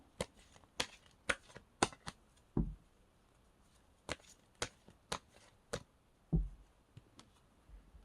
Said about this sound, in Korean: 이제 마지막으로 엔젤앤서 카드도 뽑아보도록 할게요